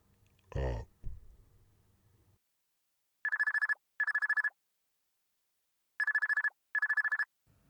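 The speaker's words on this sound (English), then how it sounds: "My phone was ringing." A mobile phone rings in two pairs of bright electronic tones with a pause between the pairs. Before the rings come a brief breathy vocal sound and a soft rustle.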